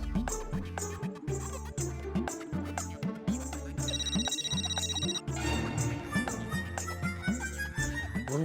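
An outgoing phone call rings through a handset, with a repeating electronic ringtone pattern in regular bursts over a quiet room, over a musical background.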